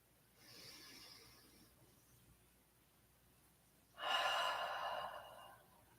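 Deep breathing during a yoga session, one quiet inhale followed by a louder, fuller exhale, close by and alone without talk.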